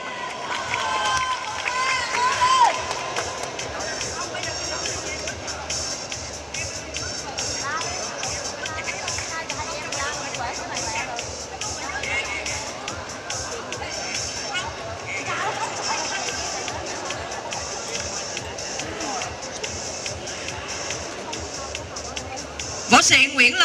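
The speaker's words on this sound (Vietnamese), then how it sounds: "Một tràng pháo tay thật nồng nhiệt để cùng chào đón Mohammad Ghanani." A crowd at a martial arts fight event gives a continuous roar of applause and cheering under an announcer's amplified voice, loud throughout.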